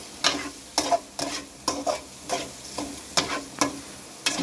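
Kothu parotta with egg being stirred and fried in a pan, with sharp rhythmic metal scraping strokes about every half second over a steady sizzle, close and loud, no talking.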